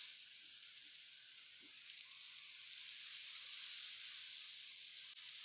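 Scallions and garlic frying in olive oil in a pan, a steady close hiss of sizzling oil with faint ticks and pops, no voices.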